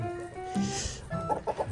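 Chickens cluck in a steady burst of short, bright calls over a busy musical background in the video game Peacock Run, with no talking.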